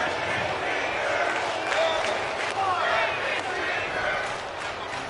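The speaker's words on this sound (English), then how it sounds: "Well, do you know what the crowd's saying? I cannot make that chant out." A wrestling arena crowd in WWE 2K24 keeps up a continuous dense roar with rhythmic chanting and scattered cheers, steady and fairly loud with no gaps.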